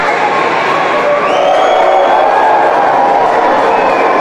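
Loud wrestling arena crowd at a Hacksaw Jim Duggan vs Psycho Sid match, cheering and howling continuously with shrill shouts rising above the roar, close and dense.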